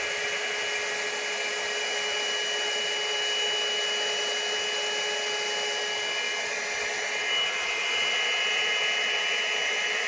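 A blower on its low setting pushes air across brown and gold poured paint to spread a spin bloom, making a steady, close, unbroken whirring hum with a faint high whine and no talking.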